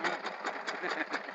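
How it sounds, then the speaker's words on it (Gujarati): A small power tiller engine runs steadily on a farm, putting out a buzzing, evenly pulsing drone at moderate loudness. "એવું અમારું ટ્રેક્ટર હાલે છે બરાબર ને કાકા"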